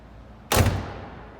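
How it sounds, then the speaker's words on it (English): Passenger side door of a 1976 Cadillac Eldorado Bicentennial swung shut, a single loud, close solid thud with a short ringing decay in a quiet indoor setting. "And I'm going to close the passenger side door now."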